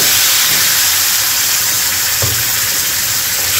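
Tomatoes hit a hot pan with ginger and garlic for anda bhurji, giving a loud, even sizzling hiss that fills the whole stretch, with a brief low knock partway through.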